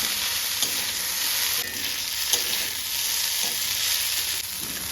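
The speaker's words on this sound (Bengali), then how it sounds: "আলু আর ফুলকপি ভালো ভাজা হয়ে এসেছে" Potato and cauliflower pieces fry in oil with turmeric and ginger as a steady close sizzle, with rhythmic stirring scrapes and clatters every second or so throughout.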